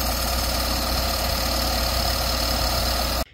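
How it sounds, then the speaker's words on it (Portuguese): Jeep Renegade engine running with a noisy air conditioning compressor, a steady close-up mechanical hum with a faint rhythmic knock and buzz that stops abruptly at the end, with no voices. "O compressor do ar-condicionado, ó, ele faz barulho, tá vendo?"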